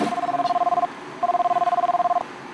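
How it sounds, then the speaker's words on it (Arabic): A telephone rings in two bursts of rapid warbling electronic tone with a short pause between, fairly close and clear. "اذنك بس اصل ده التليفون"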